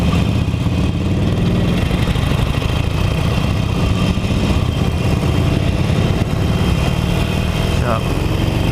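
A Harley-Davidson Iron 883 motorcycle engine runs with a steady, loud, low rumble throughout, heard up close while someone talks over it.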